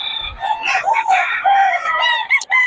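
A Hatch bloodline gamecock rooster crows loudly and close, one long wavering call with a few clucking notes around it.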